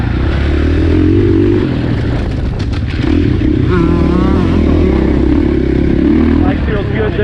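A KTM 450SXF dirt bike runs laps on a motocross track at Crow Canyon, its engine droning loud and close throughout with rising and falling revs as the rider shifts and accelerates.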